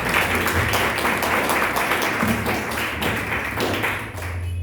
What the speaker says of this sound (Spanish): Dale palmas fuertes a Jesucristo